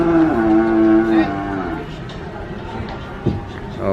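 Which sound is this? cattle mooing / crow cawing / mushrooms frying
cattle mooing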